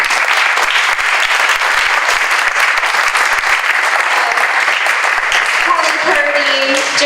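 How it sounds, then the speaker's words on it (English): An audience at a school district career and college pathways summit breaks into loud, sustained applause for event planners, dense steady clapping filling the whole stretch, with a voice emerging faintly near the end. "please everyone give them a round of applause"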